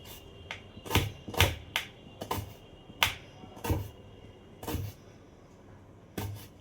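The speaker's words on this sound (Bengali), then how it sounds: "পেঁয়াজটাকেও আমি কুচি কুচি করে কেটে নেব।" Knife chopping half an onion finely for jhal muri in a home kitchen: a series of sharp, separate cuts in an uneven rhythm, close and moderately loud, with no talking.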